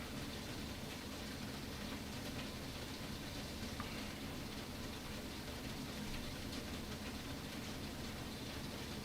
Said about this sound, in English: sorry if you hear some noise, it's raining like crazy here.